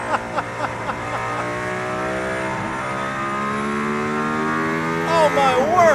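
Mercedes-AMG ONE hypercar driving in Barcelona, its engine holding a loud, steady drone with rising and falling revs, heard from inside the car alongside faint voices.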